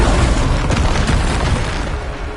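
Bombarda spell explosion in the Hogwarts Legacy video game, a dense, continuous booming rumble with crackling bursts layered over it, loud throughout and fading slightly at the end.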